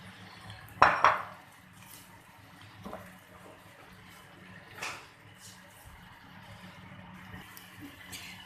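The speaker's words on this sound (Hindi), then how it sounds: "अब ये इसमें हम ये चने डाल देंगे।" Chickpeas drop into a cooking pot and are stirred for Lahori chanay, beginning with a loud close clatter of metal, followed by softer scraping knocks at intervals.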